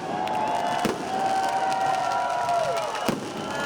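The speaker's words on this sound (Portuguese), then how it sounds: "Fogos de artifício," A crowd of supporters at a truckers' protest roars and cheers steadily while fireworks whistle overhead and pop in a couple of sharp bursts, heard from within the noisy throng in Brazil.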